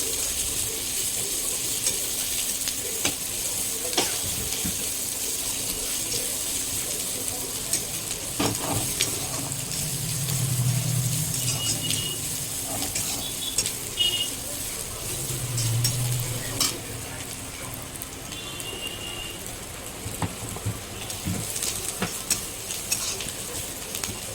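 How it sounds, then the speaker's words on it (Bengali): Chopped onion and spices frying in a pan for a taro-leaf dish, a continuous close sizzle with intermittent stirring scrapes and occasional clinks of utensil against the pan over a long stretch. "এরপরে দিয়ে দেবো পেঁয়াজ কুচি। মশলাটি সুন্দর করে ভেজে নেব।"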